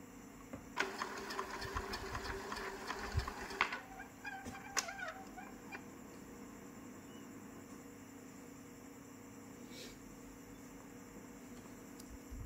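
A printer runs through its reset cycle, a quiet mechanical whirring and rapid stuttering for a few seconds that then drops to a faint hum, with no talking.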